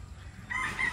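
A gamefowl rooster crows on a farm in one short, fairly loud call that swells in the second half, heard alone over faint background.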